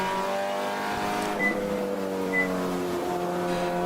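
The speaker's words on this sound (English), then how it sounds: "Can hear that crisp downshift there." Race car engine during a ChampCar endurance race at PittRace, a steady multi-harmonic drone that drops in pitch through downshifts, heard at a moderate distance with no talking.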